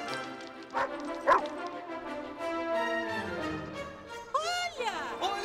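Dogs bark and yip excitedly, with a couple of sharp barks followed by a rising, whining yelp near the end.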